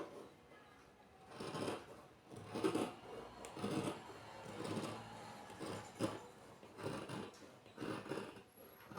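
Scissors cutting blouse cloth along the armhole, producing faint repeated rasping snips in an irregular rhythm, quiet and close without speech.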